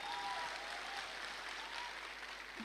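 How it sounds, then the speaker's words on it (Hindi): Continuous applause from a seated crowd at a motivational meeting, steady and fairly faint, with an even wash of many clapping hands from start to finish. "उनका सबसे बड़ा जोरदार तालियों के साथ स्वागत कर"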